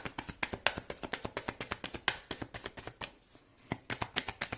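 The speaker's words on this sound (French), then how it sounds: "je vais rajouter une carte parce que du coup, ça ne suffit pas pour être assez clair" A deck of tarot cards is shuffled in quick, even taps and flicks, with a short pause before the rhythm resumes, close and fairly quiet.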